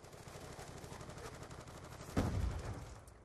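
Gunfire in Black Ops 2, a rapid run of automatic shots rattling steadily, then a heavier close blast near the end that fades out.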